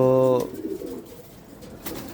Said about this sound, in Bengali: অনেক কবুতর আছে, পেডিগিরি আছে, পেডিগিরি ছাড়া আছে